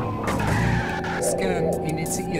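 Car braking and skidding in the Knight Rider video game, a broad tire squeal with engine noise running loud and continuous over about two seconds, with talk mixed in.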